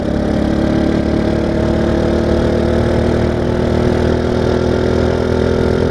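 Small engines of children's racing vehicles idle steadily before a race, a loud, close, continuous mechanical drone with no talking.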